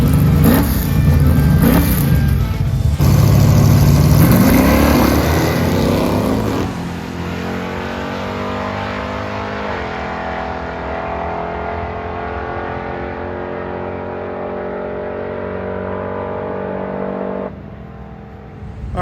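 A Chevrolet Malibu drag car makes a pass at the strip, its engine roaring loud at launch, then fading into a long steady drone as it pulls away and grows distant.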